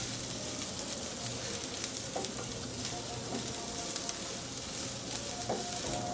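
Eggs are broken up and scrambled in a hot pan with garlic for a Thai long bean stir-fry. A steady, close sizzle of frying runs throughout, with faint scrapes and stirring taps and no talking.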